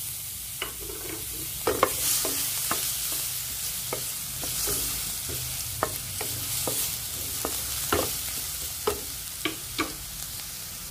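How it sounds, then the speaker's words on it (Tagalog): Ginger frying in a pan until brown, a steady close sizzle with frequent sharp scraping and stirring ticks throughout, no voices. "Hinihintay ko na mag-brown yung luya."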